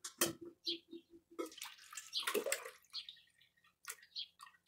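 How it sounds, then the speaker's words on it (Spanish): Thick nopal water is poured from a container into a small bucket, giving close, splashy pours in several short bursts with brief pauses between them. "vamos a vaciar el agua en esta cubetita."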